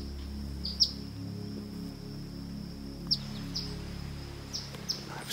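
An Eastern Phoebe parent calls near its nest outdoors, giving sharp, brief chirps at intervals: two clear notes about two seconds apart, then a few fainter ones, over a steady low hum of background noise.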